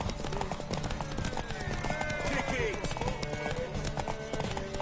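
Horse hooves clip-clop in The Witcher 3, a steady rhythmic patter under game music and character voices talking in the foreground.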